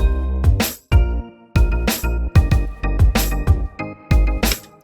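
An Arturia Pigments 3 synth piano preset plays chords over a punchy drum loop, kicks thumping rhythmically beneath the bright keyed notes.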